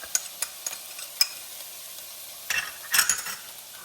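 Ginger and garlic go into a hot pan, giving a quiet sizzle broken by a few light clinks and stirring scrapes near the end.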